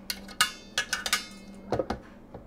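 The plastic lid flap of a yogurt maker is handled and opened. It makes a series of close, hard clicks and taps in two uneven clusters, each with a brief, bright clatter.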